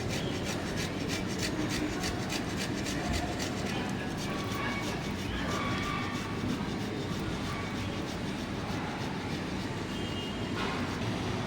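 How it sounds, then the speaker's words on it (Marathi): Potatoes are grated by hand on a grater while fasting-day sabudana cutlets are being made, giving a continuous, steady scraping rasp that is fairly loud and runs throughout with no pauses. "दोन्ही देखील बटाटे आपल्याला असे किसणीने किसून घ्यायचे आहेत।"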